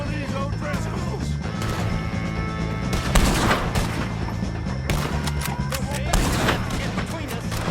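Rapid, chaotic gunfire in the Red Dead Redemption 2 shootout against the O'Driscolls, with repeated sharp cracks and heavy blasts over constant background score and game noise, loud and close throughout.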